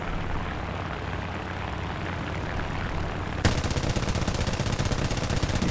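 Aircraft machine guns firing in War Thunder, a sudden burst of rapid continuous rattling that cuts in over the loud steady drone of a propeller plane engine, no talking.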